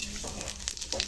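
Two dried chillies and a bay leaf sizzle in hot oil in a wok, a brief steady crackling fry with small popping bursts, close and moderately loud.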